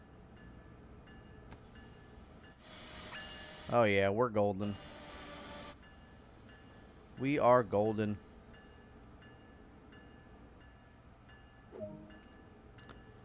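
An Amtrak passenger train rolls along a station platform in the Train Sim World 2 game, a steady low hum with a burst of air hiss, while someone talks over it.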